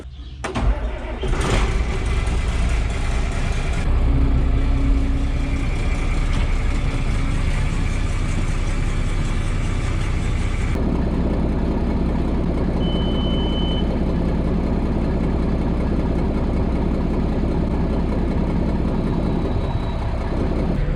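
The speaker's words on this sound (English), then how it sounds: "So I started up the skid loader, got that warming up" A skid loader engine starts and warms up on a snowy dairy farm, a loud, close, steady diesel idle, with high reversing beeps early on and faint tones later.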